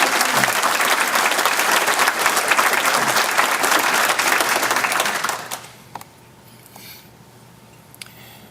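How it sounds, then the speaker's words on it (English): Loud, dense applause from a large crowd at a city's State of the City address, honoring first responders, fills the room for about five seconds, then cuts off sharply into near quiet with a few faint stray sounds. "please give them a round of applause"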